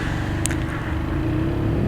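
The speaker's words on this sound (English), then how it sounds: "the sound of the engine is nice" A Keeway K-Light 125 motorcycle engine hums steadily at a low, even pitch, close and continuous, with one brief high click partway through.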